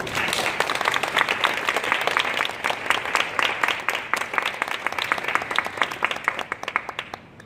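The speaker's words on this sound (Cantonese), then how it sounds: "請大家熱烈掌聲俾。" Wedding guests break into applause at a lavish Hong Kong ceremony, a dense round of many hands clapping close by that gradually thins into scattered claps by the end.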